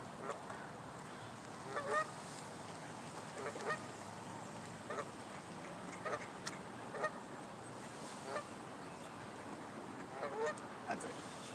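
Geese honk intermittently near the water while fishing, with scattered short calls spread across the scene over a faint, steady outdoor background.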